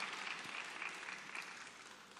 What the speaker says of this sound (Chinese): 大家给点掌声